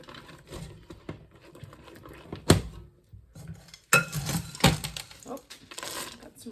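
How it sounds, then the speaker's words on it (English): Cereal puffs stirred in a pot moved off the burner give scattered scraping and clinking knocks, with a couple of sharper metallic taps standing out amid quieter rustling. "Just gonna give them a little stir"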